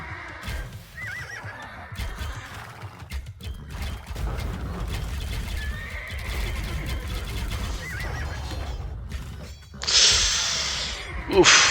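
Horses whinny in a medieval strategy battle among horse archers, with several neighs rising over busy clanking and combat noise and a louder burst near the end; a voice speaks throughout.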